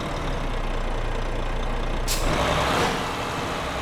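Scania S730 truck in the Assetto Corsa driving game slowing on a mountain climb, a steady loud engine drone with a sharp air-brake hiss bursting out near the end and rumbling on briefly.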